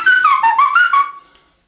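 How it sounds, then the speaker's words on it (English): A person whistles a short, clear melodic phrase of several wavering notes close by, alone, fading out after about a second. "You didn't know I could whistle like that, did you?"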